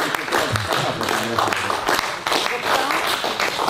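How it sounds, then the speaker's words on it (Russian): Lively audience clapping at a carp fishing tournament, Galilee Carp 2019, a dense burst of hand claps mixed with voices and crowd noise, close and fairly loud for a few seconds. "Начинайте хлопать, он идет"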